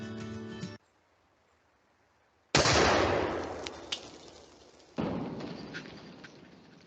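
A replica of Leonardo da Vinci's steam cannon fires twice in a film, each shot a sudden loud blast that fades slowly, spaced about two and a half seconds apart after a short silence.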